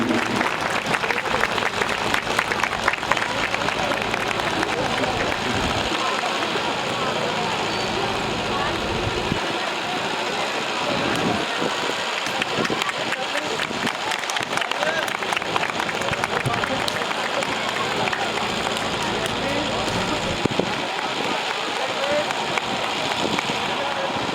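A crowd at a Christmas celebration claps for a long stretch. The applause is sustained and steady throughout, with talking and background noise underneath.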